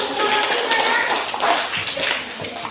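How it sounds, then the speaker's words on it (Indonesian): Audience applause after a group presentation in a classroom, a dense crackle of many clapping hands, fairly loud and continuous throughout. "Kita kasih aplaus."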